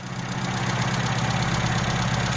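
Small engine idling steadily after a carburettor rebuild and needle adjustment, slightly burning oil, a close continuous low throbbing run with even pulsing and no talk.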